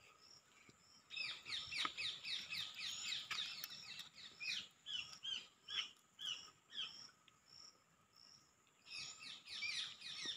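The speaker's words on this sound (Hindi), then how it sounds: "और इतनी सारी चिड़िया बोल रही हैं।" Many small birds chirp and twitter in a rural hometown setting, rapid bright calls in repeated bursts with brief lulls, fairly faint and distant, over a soft background of insects.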